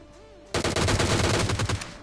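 Gunfire in the battle-royale video game PUBG Lite: a loud rapid automatic burst begins abruptly after a quiet moment and runs steadily for about a second and a half, each shot close and punchy.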